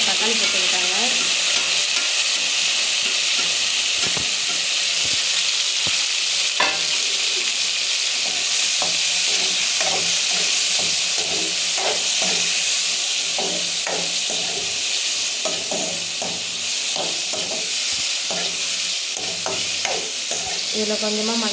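Onions and tomatoes frying and being stirred in a pan for chicken gravy: a steady, loud close sizzle with frequent scraping and clinking stir strokes throughout, no talk.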